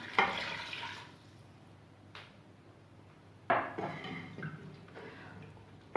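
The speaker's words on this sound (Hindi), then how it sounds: "अब मैं इसमें डालूंगी पानी एज रिक्वायर्ड। मैं डाली हूँ 1 मग।" Water is poured into a pot of beef karahi cooking with chillies, a soft splashing pour followed by faint clinks and stirring of metal cookware, quiet and close.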